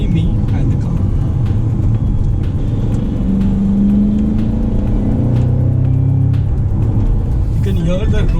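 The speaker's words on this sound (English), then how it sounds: "You can hear the roar of the engine." Audi RS5 Coupé V8 engine roaring steadily from inside the cabin while driving, a loud continuous low rumble with rising revving tones in the middle.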